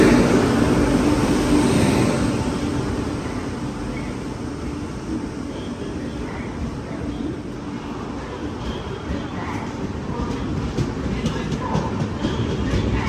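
A passenger train pulls into Thrissur railway station in Kerala, its loud rumble strongest at first and then settling into a sustained rolling drone with faint rail clatter, with no one speaking.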